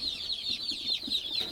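A box of newly arrived chicks for a pasture poultry flock, a dense chorus of high, rapid peeping that carries on continuously at moderate volume with no voices.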